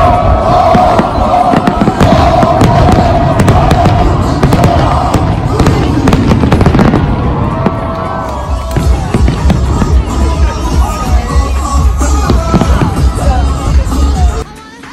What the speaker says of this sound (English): we've ended up at the international competition for fireworks.